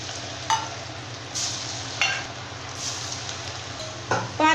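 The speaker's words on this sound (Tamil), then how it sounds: "இப்போ நம்ம தட்டில் வந்து புளிஞ்சு வச்சுருக்கக்கூடிய முறுக்கு இதில் சேர்த்துடலாம்." Leftover rice murukku frying in hot oil in a kadai, a steady low bubbling sizzle with a few sharper crackling bursts as pieces go in, close and moderately loud, no talk.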